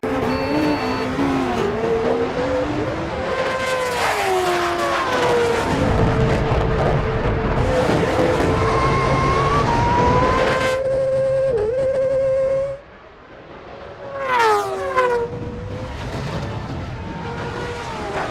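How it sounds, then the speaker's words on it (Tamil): Red Bull race event with sports bikes, sports cars and a jet, heard as a loud, sustained roar of engines and jet noise with rising and falling whines and pass-bys, then a sudden drop and a brief renewed surge. "அதுல sports bike, sports cars, private jet and ஜெட்டர் flight participate பண்ற மாதிரி ஒரு ஈவென்ட்."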